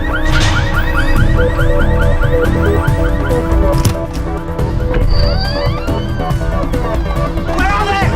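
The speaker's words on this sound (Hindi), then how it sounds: "वो गाड़ी का अलार्म बज रहा है।" A car alarm sounds from a green Volkswagen, a loud repeating electronic warble that cycles on, with a busy action-film soundtrack mixed in around it.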